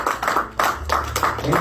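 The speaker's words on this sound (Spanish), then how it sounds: "Denle un aplauso a Cristo" Church congregation applauding during a baptism sermon, a brief burst of dense rhythmic clapping, close and fairly loud.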